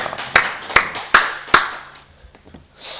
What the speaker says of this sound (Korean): 살아계신 하나님께 박수로 영광 돌리십시다